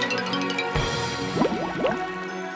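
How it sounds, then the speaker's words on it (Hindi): An axe dropped into a river, heard as a short watery splash followed by bubbling, gurgling liquid sounds over a humming background. "और जानबूझकर कुल्हाड़ी को नदी में गिरा दिया।"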